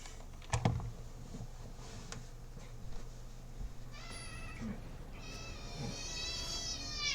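A pet cat meows repeatedly and fusses: a few drawn-out, whiny cries close by, with soft taps and keyboard clicks in the background and no talking.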